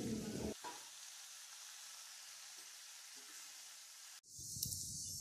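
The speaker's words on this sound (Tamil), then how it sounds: "இப்போ அதே எண்ணெயிலே இந்த சீவி வச்ச தோல் இருக்குல்ல அதை சேர்த்து இது நல்லா ரா ஸ்மெல் போகிற வரைக்கும் வதக்கணும்" Ridge gourd peel sautéing in hot oil for a chutney, giving a steady close sizzle and frying hiss that runs for several seconds before a brief stirring clatter near the end.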